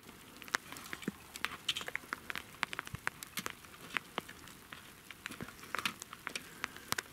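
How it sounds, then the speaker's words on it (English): Rain falls on a high mountain slope near a snow patch: a steady, faint patter with many small distinct drop hits scattered densely throughout, no voices. "The rain has diminished."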